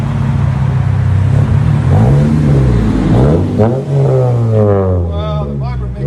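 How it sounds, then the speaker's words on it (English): A 2013 Cadillac ATS 2.0L turbo with a Vibrant resonator and muffler delete exhaust revs in a deep, steady drone, pitch rising and falling through several throttle blips, loud and close, with a voice talking over the later part. "Wow, the vibrant makes it so deep."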